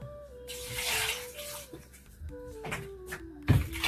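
Potatoes washed in water for aloo paratha, with splashing, sloshing and trickling water up close, irregular bursts and a louder splash near the end, while background tones hum faintly.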